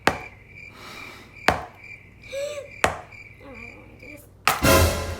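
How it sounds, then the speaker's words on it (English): Eggs cracked for cookie dough, four sharp close taps against a hard edge spaced over several seconds, with faint kitchen clatter and a brief bit of handling noise after the last knock. "Now we crack our eggs."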